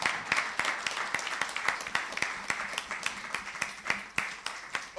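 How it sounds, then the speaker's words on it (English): Audience applause at the Falling Walls Lab event in Accra, Ghana: moderately loud, fairly sparse clapping with distinct individual claps standing out in an irregular rhythm, continuing steadily throughout. "keep the applause coming"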